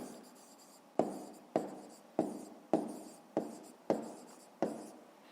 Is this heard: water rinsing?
no